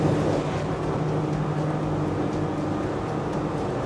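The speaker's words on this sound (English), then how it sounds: "You can hear those engines increasing in" Twin outboard engines on a Saxdor 340 GTWA boat drone at speed past 50 mph on a sea trial, a loud steady hum mixed with wind and water rush, rising slightly as RPM climbs.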